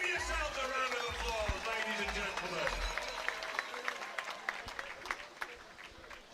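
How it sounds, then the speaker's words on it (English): A crowd applauds at a powerlifting championship in Sheffield, a dense steady roar of clapping with a few louder individual claps, while a voice speaks over the start. "The crowd showing their appreciation."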